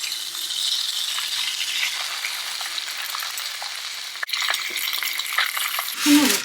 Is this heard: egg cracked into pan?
yes